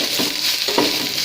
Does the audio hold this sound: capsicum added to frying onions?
yes